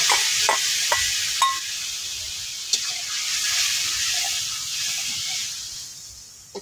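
Spices sizzling and being stirred in a pan while cooking a curry with potatoes and puti fish, a steady soft frying hiss with a few sharp clinks of the spatula against the pan.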